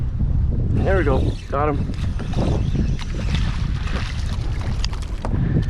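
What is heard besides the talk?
strong wind while kayak fishing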